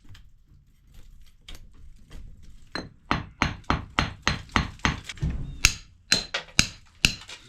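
Hammer striking stone above a lintel in an old stone wall with lime and sand mortar: a few scattered taps, then a steady run of sharp, ringing blows about three per second, close and fairly loud.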